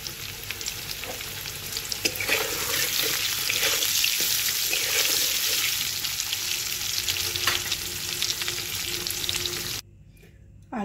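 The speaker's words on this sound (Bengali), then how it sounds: "আলুটাকে ভেজে তুলে নিলাম।" Potatoes seasoned with salt and turmeric fry in hot oil in a pan, a dense steady crackling sizzle with occasional utensil taps, which cuts off abruptly near the end.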